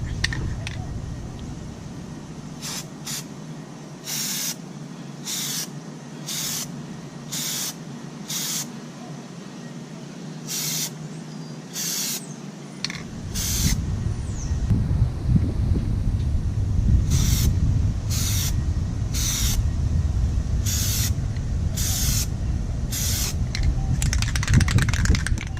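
A boat trailer bunk gets its first coat from a spray can, with repeated short hissing bursts in a steady rhythm, close and fairly loud, over a low rumbling background that grows louder partway through.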